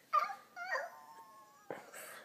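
A voice imitates a dog with short whining, howling yips, about three separate tonal calls spread over two seconds, close and clear against silence.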